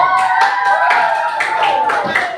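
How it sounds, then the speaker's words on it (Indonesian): A room of people breaks into applause, brisk clapping mixed with raised voices, loud and sustained throughout. "Berikan tepuk"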